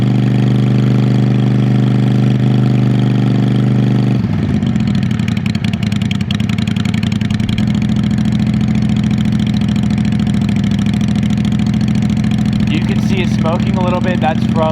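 A 2007 Honda Shadow VLX600 with a debaffled exhaust idles loud and close, its steady throb shifting to a rougher, lower rumble after a few seconds as the choke is turned off.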